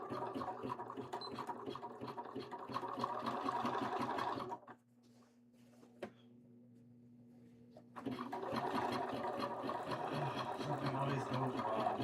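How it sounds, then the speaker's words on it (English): A sewing machine runs a quick seam joining two cosplay pieces: a steady close whirring stitch that stops briefly midway, then starts again at the same pace. "Let me sew these two pieces together really, really quickly. It's a very quick seam."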